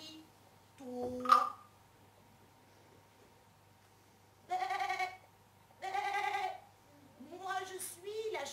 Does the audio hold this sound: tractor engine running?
no